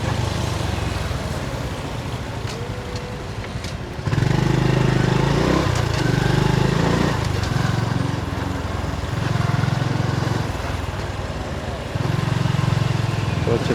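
A small vehicle's engine drones steadily as it is ridden along a road in Johor Bahru, and the note grows louder in stretches as the throttle opens, while a voice talks over it.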